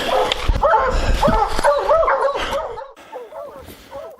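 Hunting hounds in the Montana mountains bay and yelp excitedly at a mountain lion treed near a river, with repeated overlapping barks and whines up close, while people speak over the commotion.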